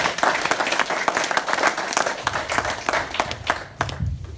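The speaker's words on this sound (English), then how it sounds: "Let's give them a round of applause." Applause from an audience at the launch of a free music school in Dudley, a dense run of claps throughout that swells and fades toward the end, with some crowd murmur underneath.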